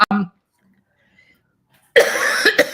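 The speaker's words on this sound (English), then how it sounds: "No fun to listen to someone cough." A short, sharp cough right at the start, followed by a long silence, then a burst of loud, noisy sound near the end.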